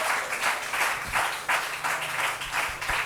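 A church congregation applauding to acclaim the Lord, rhythmic clapping in steady waves with a faint voice underneath.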